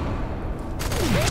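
Gunfire in the shooter F.E.A.R. 3, a loud burst of shots crashing in partway through over a rumbling game background, brief and close.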